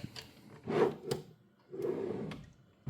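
A wooden drawer on the front of a piece of cubby furniture with hidden compartments slides and bumps in two separate scraping, rubbing passes with sharp knocks between them, close by and moderately loud.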